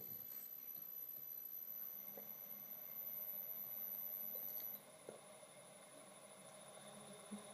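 A Taig lathe driven by a Siemens three-phase motor on a Delta VFD runs at 500 RPM, giving a quiet, steady mechanical hum with a thin high whine that drops slightly in level partway through.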